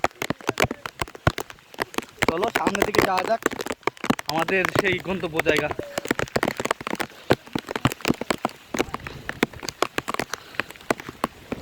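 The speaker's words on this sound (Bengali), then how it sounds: "আরও উপর পাহাড় বড় পাহাড় আর সেই বৃষ্টি পড়ছে" Rain patters steadily on a hillside in a dense, close crackle of drops, while a person talks over it for much of the time.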